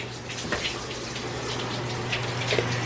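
Shower water runs steadily in a steady hiss of spray that stays even throughout, close by and moderately loud, with faint indistinct sounds over it.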